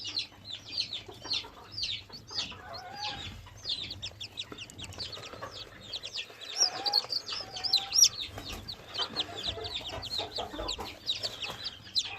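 Chicks peep in rapid, high-pitched chirps, overlapping and continuous, with a few lower clucks from nearby fowl; one chick born with splayed legs is being treated with a rubber band on its legs.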